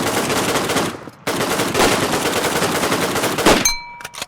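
Rapid automatic gunfire in the video game Redmatch 2, shots punching through a wall, loud and close in dense sustained bursts with a brief pause, ending in a metallic ring.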